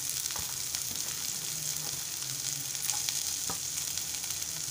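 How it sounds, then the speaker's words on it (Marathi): Finely chopped onion fries with green chillies in a pan for Maharashtrian egg bhurji, giving a dense, steady, close sizzle with a few faint taps of a spoon. "बारीक चिरलेला कांदा घालूया।"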